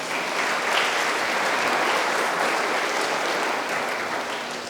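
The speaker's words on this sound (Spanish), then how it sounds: "un aplauso para también un día más" Steady applause fills a church congregation, dense and continuous at a moderate distance, holding evenly throughout with no voices over it.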